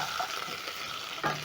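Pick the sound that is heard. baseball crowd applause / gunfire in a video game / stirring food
stirring food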